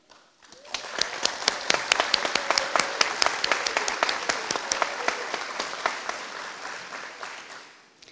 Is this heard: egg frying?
no